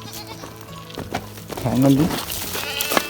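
A goat at a farm, kept alongside cattle, lets out a clear bleat midway through, heard close by under a person talking.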